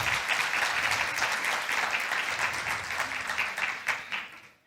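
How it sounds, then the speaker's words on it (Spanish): Applause from an audience thanking hosts at a medical lecture on lupus biomarkers, a dense, even roar of many hands already underway, holding steady before tapering off at the end. "por favor, les quiero dar un aplauso"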